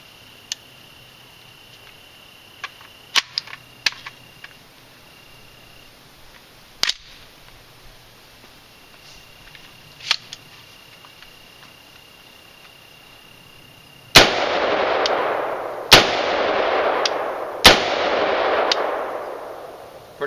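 Three loud, sharp bursts of automatic fire from a real assault weapon, each echoing and decaying, come after a stretch of crickets chirping and a few faint clicks.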